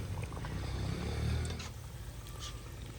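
Tikkis sizzling in darkened, reused hot oil in a village kitchen, a steady dense crackle and hiss close by with a low rumbling bed, swelling slightly midway then holding even, no voices.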